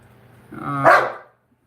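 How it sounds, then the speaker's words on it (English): A deaf dog lets out a single drawn-out bark that rises from a low whine into a loud, close yelp, with nothing else heard around it. "Yes, I do have a dog. And he's being like a sucker for attention right now."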